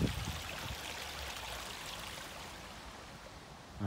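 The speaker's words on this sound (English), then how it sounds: "There's a lovely creek just outside the walls here." Continuous rushing babble of a creek flowing outside a churchyard wall in Muirkirk, Scotland, steady and moderately loud, with no voices.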